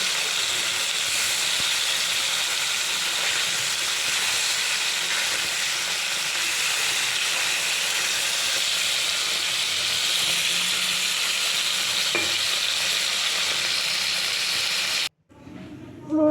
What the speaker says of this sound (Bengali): মাছগুলো এইভাবে মাছগুলো একটু ভেজে নেব